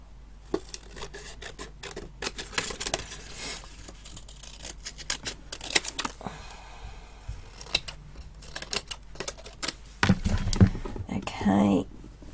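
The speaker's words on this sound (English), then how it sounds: "we need to cut this one off at about somewhere around about there" Cutting material for a miniature room box, heard as scattered close scraping and snipping sounds in short bursts, with a louder rasping stretch near the end and some quiet talk.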